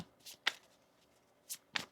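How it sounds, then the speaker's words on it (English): Tarot cards are shuffled in several quick, crisp bursts, four short riffles with brief pauses between them, close and clear in a quiet room. "One more shuffle."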